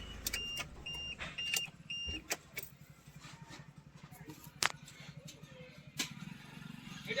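A Mahindra Scorpio S5 BS6 diesel engine with a DPF fault, idling with a steady low rumble alongside short electronic beeps, and faint speech nearby.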